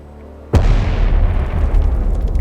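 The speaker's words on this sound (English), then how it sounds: "Reactor 3 is rocked by a hydrogen explosion similar to that in Unit 1" A hydrogen explosion rocks nuclear reactor Unit 3, a sudden loud boom after a short quiet lead-in, followed by a heavy rumbling roar that holds steady to the end.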